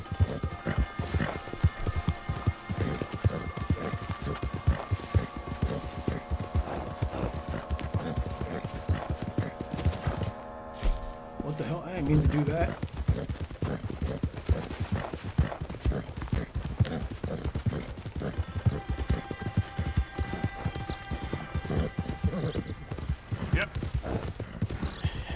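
Horse hooves clip-clop steadily in Red Dead Redemption 2, a rhythmic trotting beat over rough terrain with a short pause midway, joined by game music and occasional voices.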